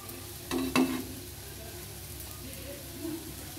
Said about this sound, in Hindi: और अब बाकी के बचे हुए कोफ्ते को भी हम इसी तरह से सब जो है फ्राई कर लेते हैं।